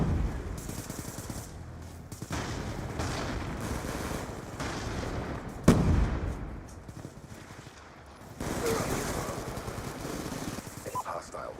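Gunfire in an older Call of Duty game comes as bursts of rapid automatic shots and a sharp blast, mixed with game noise at a moderate level under quiet voice chatter.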